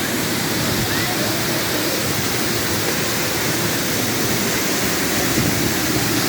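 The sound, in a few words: gushing water of Tagbibinta Falls waterfall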